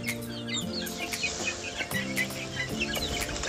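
Ayam Ketawa chicks, recovering after a Newcastle disease outbreak in Meulaboh, peep and cluck busily while being fed, with a nearby hen's low clucking underneath, quiet and close.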